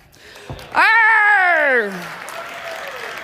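A person imitates a cat with one loud, drawn-out meow with a falling pitch, followed by faint room noise.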